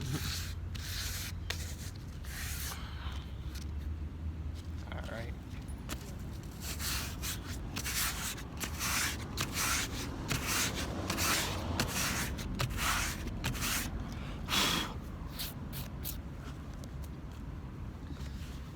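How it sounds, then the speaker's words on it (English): A tire surface on an Acura Integra gets lightly scraped, giving repeated rough rubbing strokes at close range over a steady background hum, with no talk. "gave it a little light scraping"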